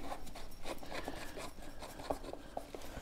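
An old gas bottle being unscrewed from a motorcycle airbag vest: close, dry scraping and rubbing of threads with small clicks, steady throughout at low volume.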